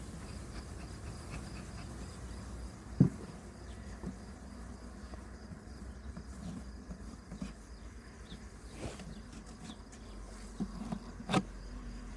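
Honeybees hum faintly and continuously around an open hive during an inspection while comb is added, with occasional soft knocks and clicks from handling the frames.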